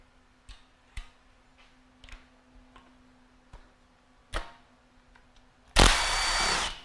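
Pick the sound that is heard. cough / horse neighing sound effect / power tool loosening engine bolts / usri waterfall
power tool loosening engine bolts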